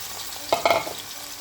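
Half a kilo of onions going into hot oil for a chicken korma: a brief burst of sizzling and stirring, moderately close, settling into a low steady fry with no talk.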